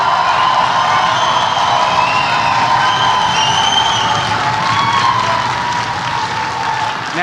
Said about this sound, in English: Let's give him a great rousing cheer so he can hear it and so Michelle can hear it